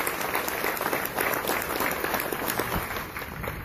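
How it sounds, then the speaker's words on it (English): An indoor audience gives a brief, even round of clapping for field leaders, dense and moderately loud, with no voices over it. "I'd love to give them a quick round of applause for the help that they've given to us."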